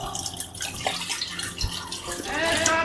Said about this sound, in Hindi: और उसमें थोड़ी सी पानी भर देती हूँ मैं।